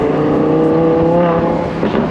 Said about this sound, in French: c'est vraiment agréable d'avoir un V10 Atmo et en plus de ça Spider